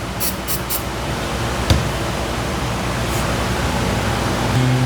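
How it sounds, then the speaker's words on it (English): Spray bottle spritzing over glue around a magnet set into a woodworking piece, a steady hissing mist lasting several seconds, close and fairly loud with no talking. "And then we'll give her a spritz."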